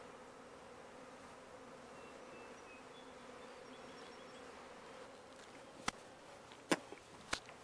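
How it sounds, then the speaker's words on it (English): Honeybee stragglers drawn from a swarm toward bee cages keep up a faint, steady buzzing hum, broken near the end by a few sharp clicks. "These have got stragglers here that just got sucked off from the swarm because of the smell of the cages."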